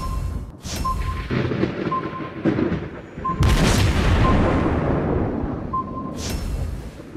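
A ship destroyed in an explosion in the naval battle game World of Warships Blitz, heard as a heavy boom with a long rumbling decay amid ongoing battle noise, short tonal beeps and fainter blasts before and after.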